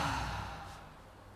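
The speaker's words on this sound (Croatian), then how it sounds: "Napet ćemo samo jedan zajednički udah i snažan izdah." A short, strong exhale from a meditation group, a breathy sigh-like release that fades over about a second.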